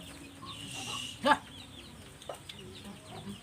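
Faint clucking from chickens nearby, with one brief louder squawk, over quiet outdoor background noise.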